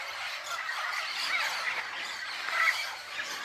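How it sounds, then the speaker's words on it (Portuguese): Parrots squawk and screech while flying over mango trees on a farm at sunrise, raspy calls rising from a noisy outdoor background at moderate distance. "os papagaios estão fazendo a festa aí nos pés de manga"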